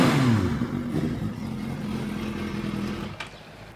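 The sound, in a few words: motorcycle engine revving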